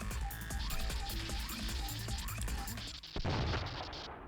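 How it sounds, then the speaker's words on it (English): A mech overloads and blows up in the Baldr Force video game: a dense, sustained wash of game noise and booming that cuts out briefly, then returns as a heavy burst near the end. "Her mech's overloaded and disappears in a blinding explosion."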